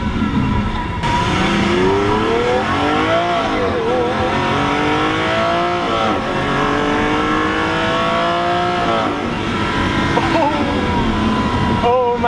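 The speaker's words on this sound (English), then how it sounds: "it's been too long since I've been in a Lamborghini Aventador" A Lamborghini Aventador supercar with a brutal single-clutch gearbox drives hard, its engine loud and near, revving up through repeated rising sweeps with gear changes between them, while a person talks over the roar.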